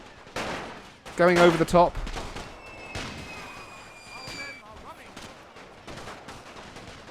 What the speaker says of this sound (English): my stormtroopers firing into the conscripts here